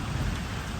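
A heavy rainstorm beats down outdoors in a dense, loud, steady roar of rain with deep rumbling underneath, with no voices.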